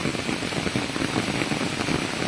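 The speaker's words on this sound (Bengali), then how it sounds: "আবার শুরু হয়েছে বৃষ্টি" Heavy rain pours down in a dense, continuous hiss, loud and close, with no pauses.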